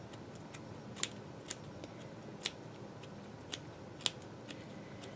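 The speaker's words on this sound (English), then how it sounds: "when you get to snipping really short, again, you want the scissors to be perpendicular to the edge of the hair" Scissors snip short, spiky doll hair in a run of crisp, close cuts that come at an irregular pace. Each snip is quiet and brief over a soft background hiss.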